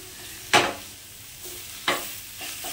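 Bitter gourd fried with amaranth greens in a pan, stirred in two sharp scraping strokes of the spatula, each followed by a soft sizzle, close and clear with no voices.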